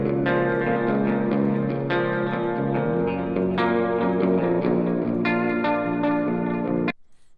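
Sustained distorted electric guitar chords ringing through a simulated 4x10 Super Reverb cabinet, steady and loud with a touch of reverb, stopping abruptly near the end.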